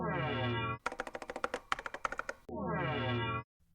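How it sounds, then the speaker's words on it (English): Quick run of keystrokes on a computer keyboard, about a dozen sharp clicks in an uneven burst, set between two longer tonal synthesized tones before and after. "just gonna type into this search bar"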